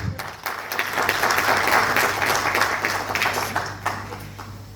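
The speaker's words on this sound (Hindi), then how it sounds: "इस बात का हम तालियों से स्वागत करें।" A crowd at the Ramakrishna Sevashram in Vrindavan applauding steadily, dense clapping that holds at an even loud level throughout before trailing off at the end.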